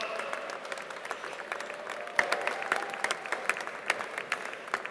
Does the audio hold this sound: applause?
yes